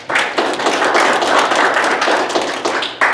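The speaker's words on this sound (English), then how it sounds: "Give a round of applause." Audience applause at a wealth-building seminar: dense, sustained clapping from a crowd, loud and close, continuing steadily for a few seconds with brief swells.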